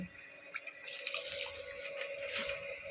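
Washed rice tipped into a pot of hot water while cooking shahi mutton dum biryani, giving soft, intermittent splashing and trickling at a faint, close level.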